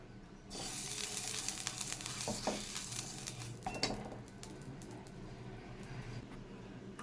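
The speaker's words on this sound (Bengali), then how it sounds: "এদিকে আমি একটু কড়াইতে তেল মাখিয়ে নেব" Oil sizzling in a kadai (wok) during preparation of payesh and pitha, a steady close hiss running throughout with occasional scrapes and clinks of utensils against the pan.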